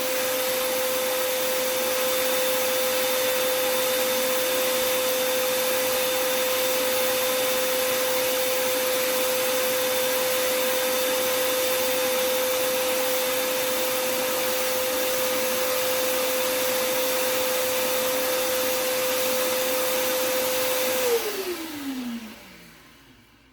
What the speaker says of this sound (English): You can actually see the moisture being sucked up inside the vacuum